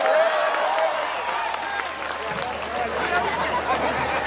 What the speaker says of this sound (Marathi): तुम्ही टाळ्या वाजवून सांगा